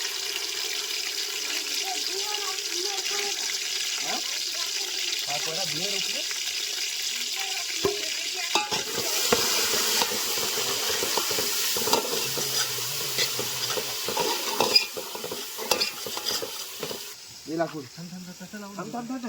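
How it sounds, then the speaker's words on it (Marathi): Chicken with ginger-garlic paste and onion crackling in a pan at a night-time outdoor farm cookout, a continuous close sizzle with stirring scrapes and clatter, while people talk and call out now and then. "चिकनला फोडणी देता"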